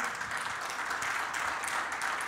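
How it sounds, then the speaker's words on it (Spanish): A church congregation applauds in thanks during a sermon, a steady, faint wash of clapping that continues evenly throughout. "Dele un aplauso entonces a Él"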